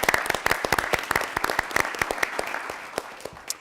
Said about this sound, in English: So I just want to give Angie a round of applause for your great work